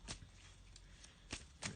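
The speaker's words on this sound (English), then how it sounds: "Let me just shuffle up the cards" A deck of black and white Faulkner tarot cards is shuffled by hand: a few quick, soft riffling bursts, up close and quiet, with no talking.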